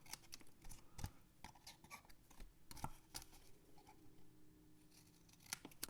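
Scissors cut paper for a lip balm gift box in a series of short, crisp snips and rustles, some spaced apart and a few sharper, louder cuts, with no talking.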